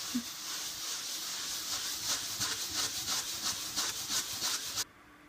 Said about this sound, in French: Alors je vais venir frotter avec la partie un peu scrubble là.